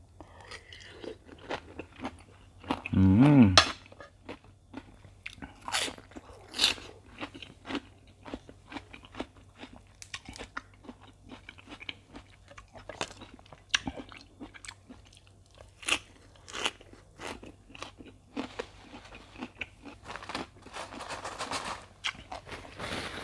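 Raw oysters dressed with chili are eaten up close: wet, crunchy bites and steady chewing, with one louder burst early on, then smaller clicks and squelches continuing throughout.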